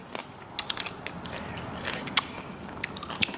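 Crunchy bites and wet chewing of spicy pounded papaya salad with rice noodles, red sausage and crab, close up with a steady scatter of soft crackles and a few sharper bites, no talk.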